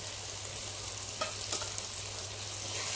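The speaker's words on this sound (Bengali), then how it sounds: "সব কিছু দিয়ে আর কিছুক্ষণ কষাতে হবে" Ginger, garlic, coriander and chilli pastes sautéing in a hot pan, a soft steady sizzle with a couple of brief stirring scrapes, close and fairly quiet, no talking.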